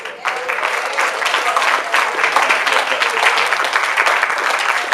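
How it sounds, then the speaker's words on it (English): Congregation clapping hands during a church service, dense rhythmic clapping sustained throughout at close range, with faint voices underneath. "Clap your hands and just praise him."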